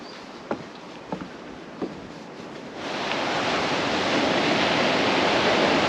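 Sea waves on a shore in Turkey make a broad, steady hiss that swells noticeably louder after a few seconds, with a few faint knocks early on and no speech.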